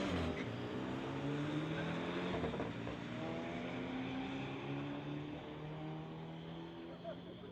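At a drag strip, a 2013 Volkswagen GTI and a Volkswagen Beetle rev and accelerate in a grudge race, engines droning loudly and then easing slightly as they pull away, with no clear speech over them.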